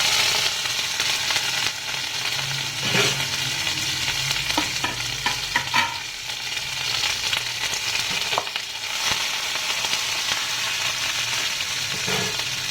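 Mustard seeds, cumin and curry leaves fry in hot oil with a steady broadband sizzle, punctuated by scattered pops and crackles and occasional stirring scrapes; no talking.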